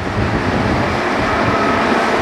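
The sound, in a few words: amusement park ride train at Tivoli Copenhagen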